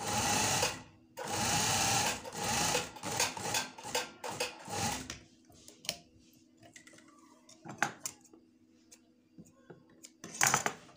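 A sewing machine stitches a shirt in rapid, loud runs of whirring needle strokes, then stops and restarts in shorter bursts amid quieter handling of the fabric, close up.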